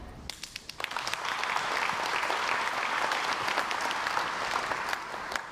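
Audience applause at a school district breakfast event, a steady burst of clapping from a large crowd that swells after a brief start and holds throughout, with no talk over it.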